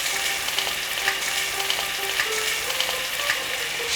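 Chopped vegetables—potato, eggplant, carrot, beans, sweet pumpkin, sweet potato and radish—hit hot oil for a spinach and mixed vegetable ghonto, giving a steady, close, dense sizzle with faint crackles and no talking.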